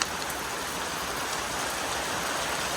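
Rain falls steadily in a dense, even hiss of drops striking surfaces nearby, unbroken and alone throughout.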